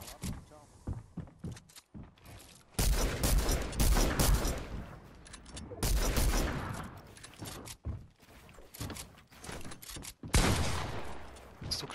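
Repeated gunfire from a Fortnite match: loud sustained bursts and volleys alternating with short pauses, close and dense, while a voice speaks in between.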